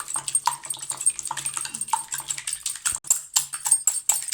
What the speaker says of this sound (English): We can whisk them well.